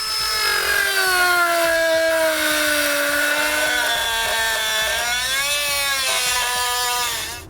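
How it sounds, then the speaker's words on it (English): A rotary tool trims plastic bumper trim on a 2010 Audi Q7 for a trailer hitch install, giving a loud, close, continuous high whine that shifts pitch as the load changes. "You can use a rotary tool, which is what I'm going to use, or a sharp utility knife in order to make your cut."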